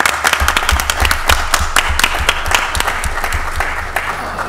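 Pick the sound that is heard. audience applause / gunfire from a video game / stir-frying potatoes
audience applause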